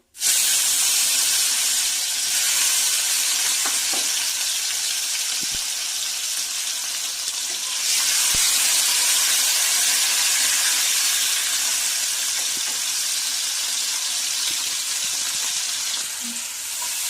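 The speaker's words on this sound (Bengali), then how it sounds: "টমেটো আর তেজপাতাটা ভালোভাবে কষানো হয়ে গেছে।" Tomatoes and bay leaves frying in oil in a wok, a loud, steady sizzle that holds evenly throughout with no talking.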